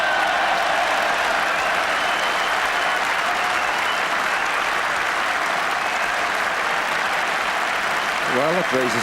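A cricket crowd cheers and applauds as a steady, dense roar that holds for the whole stretch, with a voice rising briefly near the end.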